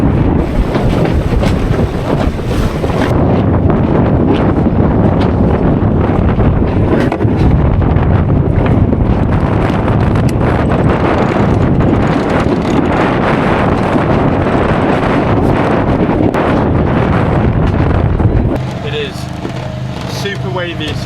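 Heavy wind of 25 knots gusting to 30 at sea buffets the microphone in a loud, sustained roar with gusty surges, voices faintly present beneath, easing somewhat near the end.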